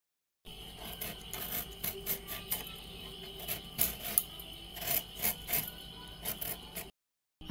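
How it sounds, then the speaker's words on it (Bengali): A mango being peeled by hand, giving a close, soft rasping and scraping with a series of short strokes against a quiet background. "আমের জামা কাপড়টা ছাড়িয়ে নিই"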